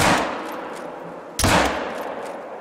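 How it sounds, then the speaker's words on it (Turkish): Rifle shots in the hunting game theHunter: Call of the Wild, two loud sharp reports about a second and a half apart, each trailing off into a long echoing decay. "Yanlışlıkla ağacı vurdum."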